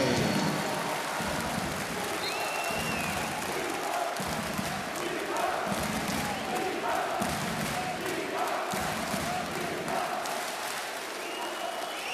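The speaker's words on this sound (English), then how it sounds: "And the crowd go wild." A handball arena crowd at the EHF EURO 2012 Iceland–Slovenia match cheers after a goal. A loud, steady roar of many voices and clapping fills the whole stretch without pause.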